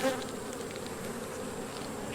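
Honey bees buzzing steadily at an open hive during an inspection, a dense, continuous drone close by with no talking.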